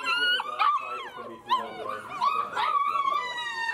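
A puppy whimpers and yips in a series of high, wavering whines and short cries, close by, with a person speaking softly over it.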